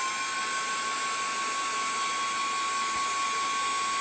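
A heat tool blasts steadily to dry gel in craft moulds, a continuous loud whirring hiss with a high whine, unbroken throughout and with no talking.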